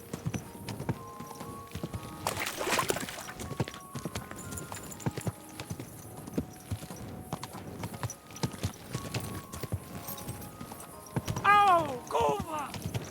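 Horse hooves clip-clop steadily in Kingdom Come Deliverance 2, a close rhythmic clatter of a ridden horse with a short whinny near the end and voices talking over it.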